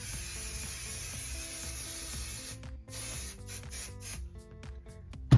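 Adhesive spray hisses from an aerosol can onto a piece of fabric in several short and longer bursts, close and fairly quiet, ending with a brief knock.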